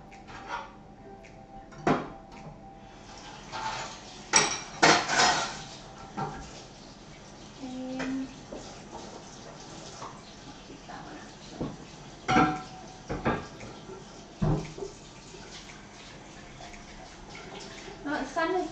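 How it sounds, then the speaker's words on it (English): Cooking pot being washed out with water, with sloshing and splashing, clanks of metal against a basin and scattered knocks, close by and intermittent over several seconds. "So I'm going to wash out my pot so that I can use that once the potatoes come out."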